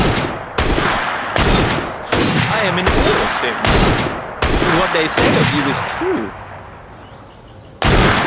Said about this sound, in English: That sounded like a second gunshot.